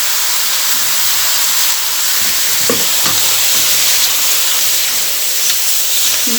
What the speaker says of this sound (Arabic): حاجه بقى اشوحها تشويحه حلوه